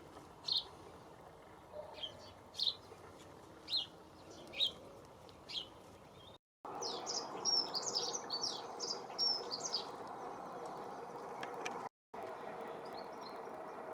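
Several robins call from nearby in an outdoor setting, bright repeated chirps and short song phrases at irregular intervals over a steady outdoor hum.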